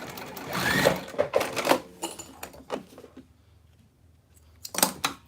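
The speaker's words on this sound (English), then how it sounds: "All right, we're finally sewing." A home sewing machine stitches a strap for a crossbody bag in short bursts of rapid mechanical clatter, a louder run at first, then pauses and a final brief burst, heard up close.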